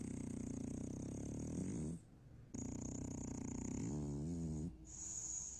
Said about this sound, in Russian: А действительно ли французские бульдоги храпят?